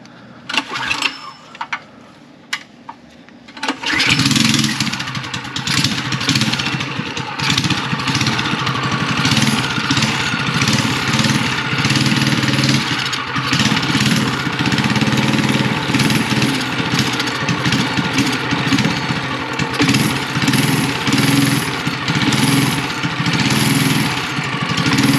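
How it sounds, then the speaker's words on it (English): A mini chopper motorcycle engine with a VM22 carburetor running lean on the choke: after a few seconds of quiet handling it catches and settles into a loud, steady, buzzing run close by that holds to the end. "Alright, this thing is too lean, I can tell. It's not even taking throttle. It'll run on the choke."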